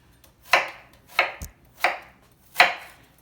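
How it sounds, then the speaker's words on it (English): Four crisp, separate knife strikes hit a cutting board at an uneven pace as a halved onion is finely chopped, each a sharp close thunk with a short decay, with no voices. "I'm going to first cut up the onions"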